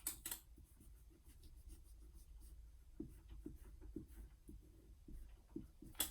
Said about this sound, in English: I'm gonna erase this right here.